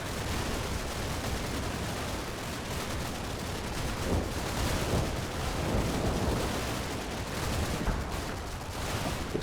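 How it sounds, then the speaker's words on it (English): Dense, continuous gunfire and distant explosions from a World War II battle in Combat Mission: Battle for Normandy fill the scene at a steady level with no break, the individual shots blurred into a rolling crackle with no voices. "Small arms fire might have got us here."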